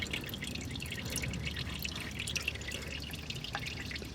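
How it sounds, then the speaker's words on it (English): Warm engine oil draining from a loosened oil filter during an oil change, a close, continuous dripping and trickling of liquid with faint splashes, steady throughout and with no voices. "loosen up, let some oil drain, back your hand back out of the way"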